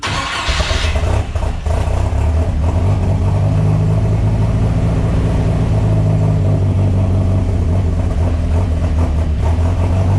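A turbocharged boat engine swapped into an S10 truck cranks over and catches, then settles into a loud, steady cold idle close by, rumbling for several seconds with no talk.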